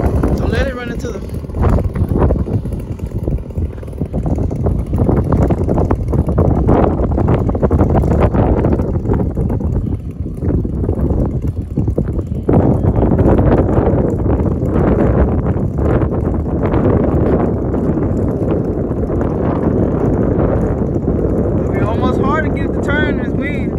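Strong wind at an RC airfield buffets the microphone in heavy rumbling gusts, while a person talks intermittently and a small model plane engine whines faintly at times.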